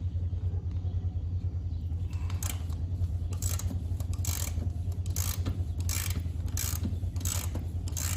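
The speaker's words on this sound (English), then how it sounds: "we'll try to get this front bolt loose" A wrench ratchets on a bolt in the rear suspension of a Polaris snowmobile. It gives repeated rhythmic clicking bursts over a steady low mechanical rumble, close and alone.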